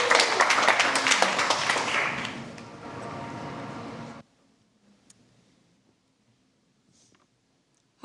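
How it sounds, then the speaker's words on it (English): An audience applauds a presenter at an evening startup pitch event, LaunchBox 2023: dense, loud clapping for about four seconds that thins slightly, then cuts off abruptly into near silence. "Give him a round of applause."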